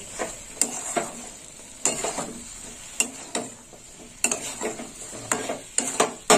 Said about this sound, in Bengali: এবার সোয়াবিনটা দিয়েও আমি কষে নেব